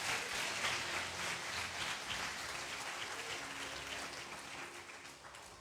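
A church congregation bursts into sustained, dense applause during a family worship service, the clapping steady and loud throughout with no speech over it.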